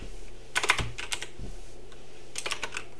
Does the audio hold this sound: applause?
no